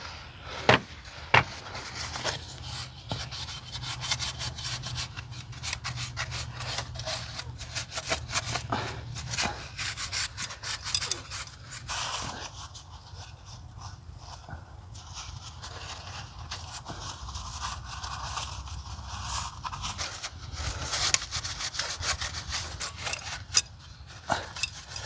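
A rag soaked in WD-40 wipes the cover mating surfaces on a BMW N20-to-N26 engine during a valve cover and gasket replacement, giving steady close rubbing and scrubbing with scattered clicks and knocks, no talk.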